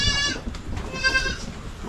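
A large, heavy seven-month-old goat bleats in a loud, wavering harmonic call, with a second shorter bleat following, close by on a farm.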